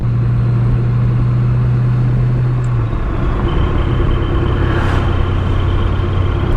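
Steady interior road noise from a car fitted with a Tremec T56 manual transmission: continuous engine drone and tyre rumble, a low tone shifting partway through as if changing gear, no talking.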